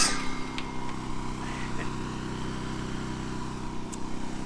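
A generator with a charging unit hooked up to it runs steadily at an off-grid dry cabin in Alaska, a constant low engine drone with no breaks, fairly close and loud.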